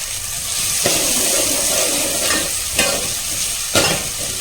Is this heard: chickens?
no